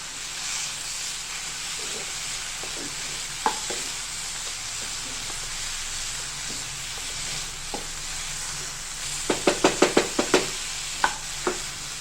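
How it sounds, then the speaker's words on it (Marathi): Modak filling being stirred and sautéed in a pan gives a steady close sizzle broken by scattered scrapes and taps of the spoon, with a quick run of sharp clicks near the end. "हे सारण जसं जसं आपण परतणार आहे तसं तसं ते आता घट्ट होत जाणार आहे"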